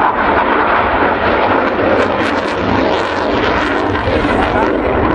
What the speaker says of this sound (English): I noticed that one aircraft is actually quite a long way away, apparently losing interest, while the other one's zooming around.